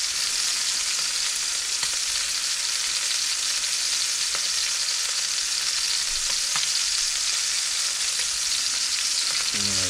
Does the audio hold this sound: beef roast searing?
yes